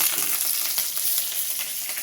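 Mustard seeds, chana dal and curry leaves sizzle and crackle in hot oil as a tempering for tomato sambar, a dense, steady frying hiss close by with no talk.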